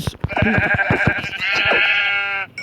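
A sheep in the Minecraft video game bleats in a long wavering cry, loud and close, after a brief run of clicky game sounds.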